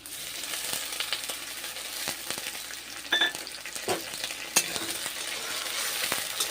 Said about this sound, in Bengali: টমেটো ভেজে নিচ্ছি।